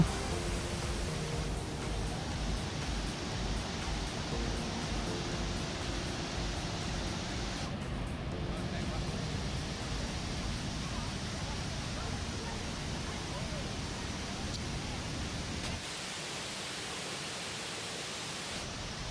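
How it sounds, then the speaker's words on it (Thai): Water pours steadily down the first tier of Tad Kuang Si waterfall in Laos, a broad continuous rushing roar close by that drops slightly in level near the end, with faint voices underneath. "เราก็จะเห็นน้ำตกแล้วครับ ตรงนี้นะครับเป็นน้ำตกชั้นที่1แล้วนะครับ"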